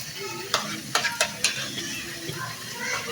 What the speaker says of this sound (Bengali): এখন দিয়ে দেবো হচ্ছে সামান্য পরিমাণে আদা রসুন বাটা আর হচ্ছে জিরা বাটা।